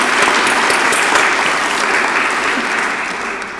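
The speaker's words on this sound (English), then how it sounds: "let's give a round of applause to the wonderful caterers that supported this event" Loud, dense applause from an audience at a women's event, sustained steadily for several seconds with no talk over it.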